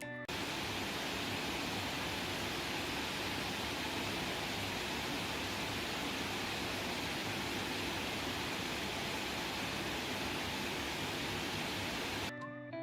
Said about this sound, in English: Now about 5 feet away from my mining farm, the sound is not too bad.